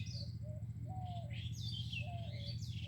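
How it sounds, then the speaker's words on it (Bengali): Small birds chirp and call around a quiet village with bushes, with repeated short tweets and warbling phrases scattered over a steady low background hum, moderately near and fairly soft. "পাখির ডাকাডাকি, কিচিরমিচির"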